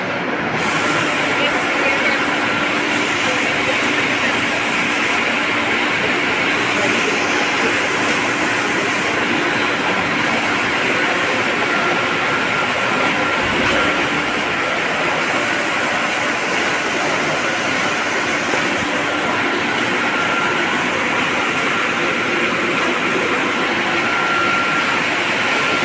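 Both water pumps of a hydrology flume run flat out at 50 hertz. A loud, steady motor whine mixes with rushing water in a continuous broadband roar that holds level without pause.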